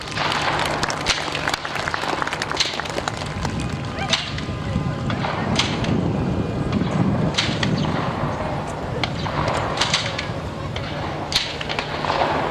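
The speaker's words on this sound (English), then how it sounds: "So give a big round of applause then, ladies and gentlemen." Outdoor crowd applause at a Shetland Pony Grand National, scattered claps with sharp individual slaps over wind and background bustle, moderately loud with a continuous murmur of voices underneath.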